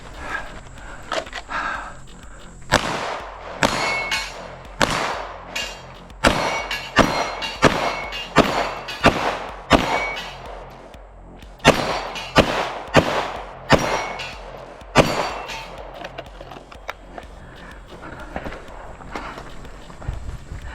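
Pistol shots at an outdoor run-and-gun shooting competition ring out in a rapid series of sharp, fairly loud cracks in irregular bursts, with brief pauses between groups.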